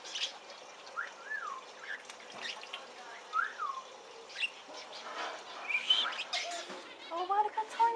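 Tiny winter birds chirp on a farm with a series of faint, scattered high tweets and short whistled calls over quiet background noise.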